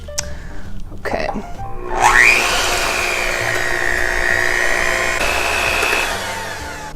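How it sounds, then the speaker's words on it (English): An electric hand mixer beats an egg in a bowl, starting after a few clicks and knocks, then whirring steadily with a high motor whine and a slight pitch dip for about five seconds, loud and close. "Hand mixer."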